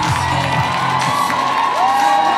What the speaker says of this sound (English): They are about the loudest crowd that I've heard in Boston outside of a sports game.